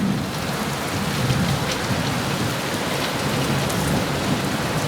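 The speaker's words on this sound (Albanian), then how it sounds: "Ky akoma nuk është kulmi i stuhisë" A heavy, steady downpour with low rumbling thunder during a storm, loud and continuous throughout, with no voices.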